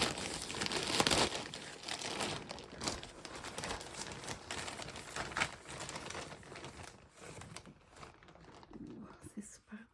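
A plastic bag holding yarn is opened up close, with crinkling and rustling that comes in bursts. Soft speech is heard faintly underneath.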